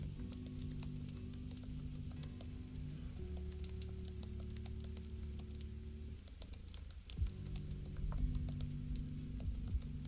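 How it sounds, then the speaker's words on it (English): Steady rain pattering throughout, a dense continuous crackle with a constant low electrical hum beneath it that shifts pitch a couple of times; no one speaks. "Mostly hear rain sound."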